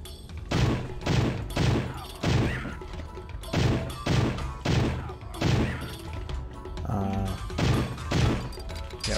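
Smashing and booming bursts from breakable objects and exploding barrels in the retro shooter game Powerslave Exhumed, loud rhythmic impacts repeating every half second or so over a steady backing, with no talk.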